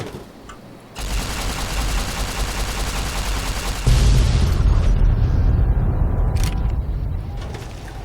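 A massive bomb explosion in Fallout (Tale of Two Wastelands): a loud crackling blast that swells into a deeper roaring rumble, sustained for several seconds before slowly dying away, with no voices.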